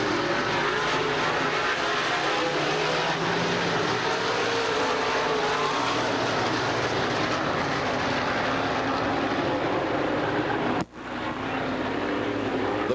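Dirt late model race cars roar around an oval track in a continuous, loud, dense engine drone, with several cars running together down the back straightaway and a brief dropout near the end.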